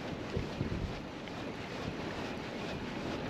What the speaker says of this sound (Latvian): Sāk pūst vējš vēl vairāk.